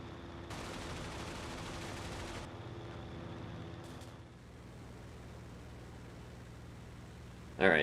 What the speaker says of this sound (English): so I'm going to strafe this infantry down here.